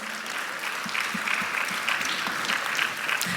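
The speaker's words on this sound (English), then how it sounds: "please welcome our chairperson, Shri C. Gangi Reddy Garu, with a huge round of applause." An audience at a school annual day celebration applauds a chairperson in a hall, a dense, sustained clapping that holds steady, with a few individual claps standing out near the front.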